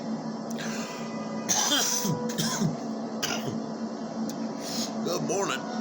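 A person coughs and clears their throat after smoking Strawberry Cough cannabis, a few rough, close bursts spread across a quiet room with a faint steady hum behind.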